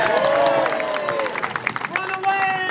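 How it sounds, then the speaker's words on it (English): A crowd at Pier 39 lets out whoops and cheers with scattered clapping, lively and fairly close, fading slightly toward the end. "People, give these two people a cheer!"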